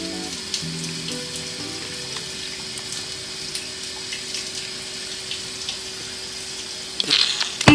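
Water runs steadily while hair is washed, a continuous hiss with a faint hum, ending in a brief louder splash and rustle, no voices.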